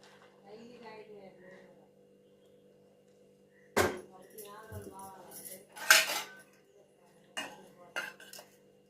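Ragi porridge is ladled into a bowl, with a spoon scraping and clinking sharply against metal vessels in several separate knocks, near and fairly loud, while someone talks in between.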